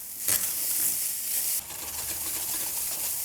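Onion, chili and garlic sizzle in a pan for a shakshuka breakfast, a steady close hiss with a brief louder burst early on, alone without talk.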